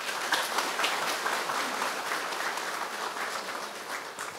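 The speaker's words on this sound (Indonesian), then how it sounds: "Dari tepuk tangannya kita bisa dengar mana yang paling mereka sukai gitu" Audience applause at a vice-presidential reception for exemplary medical and health workers, a steady, moderately loud patter of many hands clapping that carries evenly throughout and eases slightly at the end.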